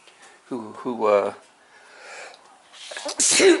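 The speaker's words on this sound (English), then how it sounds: "I'm going to sneeze" A voice breaks into a loud, close sneeze near the end, after some brief vocal sounds and a breathy pause.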